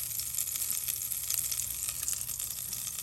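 Margarine sizzling steadily in a hot pan, a dense, even frying hiss with no talk and no pauses throughout.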